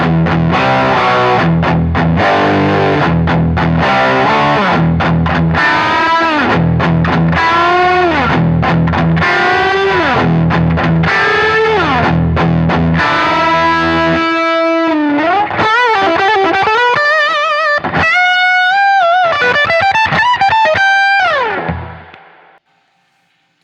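Overdriven electric guitar through a Fender Hot Rod amp, loud chugging chords that shift into bending, sustained single-note lines before ringing out and fading to silence at the end.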